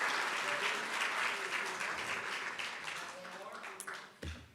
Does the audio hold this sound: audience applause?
yes